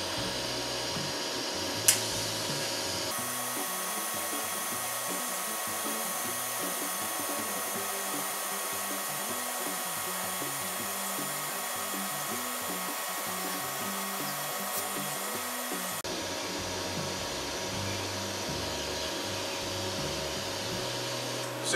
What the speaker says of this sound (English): So I'm gonna grind all these at as close to the same angle as I can.